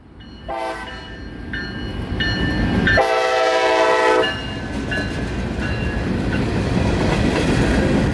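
A CSX freight train passing southbound on a rainy afternoon in Sun City, Florida, sounds its horn in several loud blasts while the heavy rumble and clatter of rolling cars carry on throughout.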